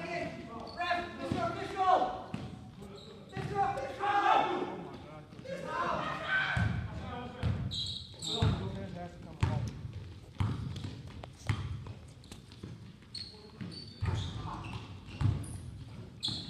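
Basketball bouncing on a gym floor during a pickup game, sharp thumps scattered at irregular intervals amid squeaks and steady talk from players and onlookers.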